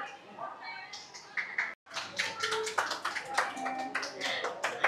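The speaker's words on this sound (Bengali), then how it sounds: "হাততালি দিয়ে গাছটাতে লাইট জ্বালানো হচ্ছে।" Several hands clap quickly and faintly to switch on the lights of a display tree at the Science City in Digha. The clapping sits among crowd chatter and indoor background noise.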